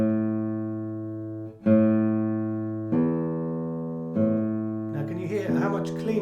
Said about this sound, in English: So to stop the low E, we need to first play the A and then fairly quickly return the thumb like this to